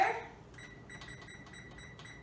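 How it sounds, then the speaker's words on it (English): A kitchen oven timer gives a string of short, evenly spaced electronic beeps while being set for baking Puerto Rican polvorones, close and fairly quiet against a soft room background. "set the timer for"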